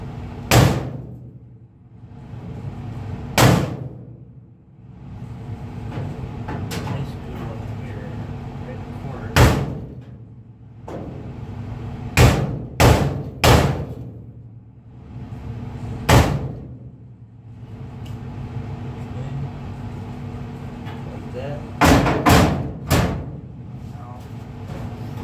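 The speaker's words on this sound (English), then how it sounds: "I'm gonna give it a couple more whacks with the hammer" Sharp metallic hammer whacks strike the lower passenger-side door panel of a 1951 Ford sedan custom, landing singly and in quick clusters of two or three, loud and close, with a steady background hum between blows.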